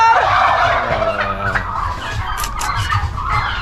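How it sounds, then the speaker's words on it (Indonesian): Turkeys on a farm gobbling loudly in a rapid rolling chorus, several birds calling together close by, followed by a few sharper clucking calls. "Kalkun itu tipikal hewan yang mudah sekali untuk bersuara dan suaranya sangat kencang"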